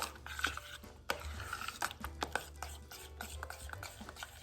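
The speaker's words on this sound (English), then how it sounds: "And stir that in before it gets too cool." Chocolate cream pie filling stirred in a pot on the stove with butter just added, giving soft scraping and clinking of a utensil against the pot in uneven strokes, close and fairly quiet.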